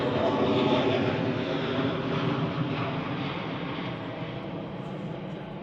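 A fixed-wing airplane passes overhead above an outdoor picnic in a park, a broad steady roar that is loudest at first and slowly fades, with no talk over it.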